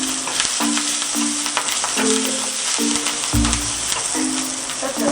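Grated coconut sautéed with cashews and curry leaves in a pan, a steady close sizzle and fry with scraping stir strokes throughout, no voices.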